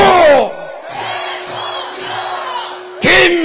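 A crowd at an outdoor election campaign rally shouts back in unison, a loud collective roar that rises, fades and surges again, with a speaker's voice carrying over a sustained tone between the shouts.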